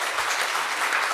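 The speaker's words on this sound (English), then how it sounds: "So applause for the people in the room" A room of attendees at a peatlands policy session gives a brief burst of dense, steady applause.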